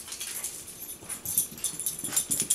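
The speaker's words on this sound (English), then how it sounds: "My dogs are fighting." Dogs scuffling with each other indoors, a faint mix of huffs, snorting breaths and small whimpers in quick irregular bursts.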